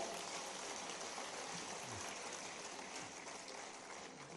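An audience gives a ceremony honouring Olympic and Paralympic 2024 medal winners hearty applause, a dense, hissing wash of many hands that stays steady and fairly distant, easing slightly toward the end.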